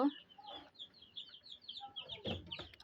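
Tiger-breed chicks give soft, repeated high chirps in a quick, uneven run, joined by low clucking from older chickens. The sound is faint and close, with a little murmured talk underneath.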